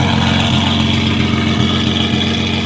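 Deep, steady rumble of a Lamborghini SVJ with a Gintani aftermarket exhaust idling close by, a constant low drone with no talking.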